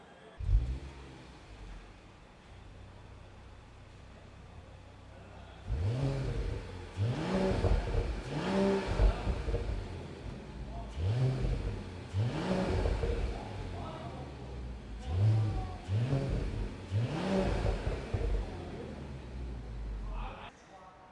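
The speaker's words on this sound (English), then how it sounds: "you guys just heard the stock system on this car sounds really lame, very quiet" Stock exhaust of a 2026 Mercedes CLE 53 AMG with an inline six, quiet after a low idle, then several repeated blips of revving in a steady rhythm, each rising and falling, fairly subdued and close.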